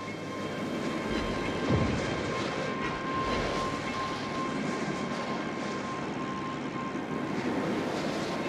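Fighter plane engine in a naval combat game, a steady droning roar with a thin whine held throughout, with a brief rushing swell near the start and no talk over it.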